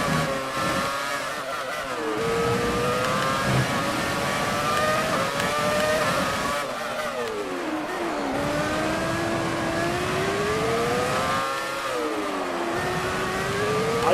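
A retro Formula 1 car in the F1 2018 racing game revs through rising and falling engine pitches as it accelerates and shifts, a continuous whining drone with repeated upshift dips.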